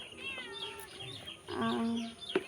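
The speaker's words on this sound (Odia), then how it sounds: "ଖା ତୁ ବିଲେଇ" A domestic cat meows in a household kitchen, two harmonic cries close to the microphone, the longer second one rising and falling, with faint background noise.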